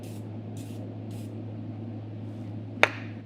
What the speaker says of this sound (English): that's how much I would spray on if I was gonna use glass cleaner as anti-spatter